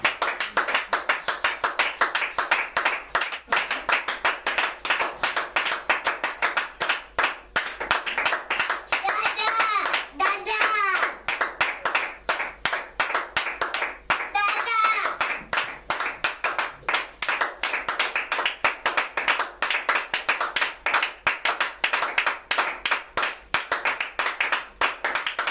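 Church congregation clapping steadily in rhythm during praise, a loud continuous crowd of hand claps with brief singing voices rising over it midway.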